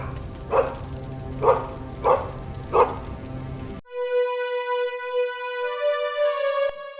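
A dog in an animated Hindi moral story barks four times in an even rhythm, loud and close. The barks give way to sustained tonal background music.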